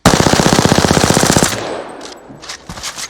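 Automatic weapon fired at a wall during a recoil test in Apex Legends, a loud rapid burst of evenly spaced shots lasting about a second and a half, then quieter clicks and rattles.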